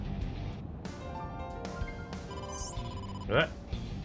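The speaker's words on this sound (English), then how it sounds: "Date, incoming call from the boss" A phone rings with an incoming call in the video game AI: The Somnium Files, its tonal chime repeating in short bursts while a voice speaks over it.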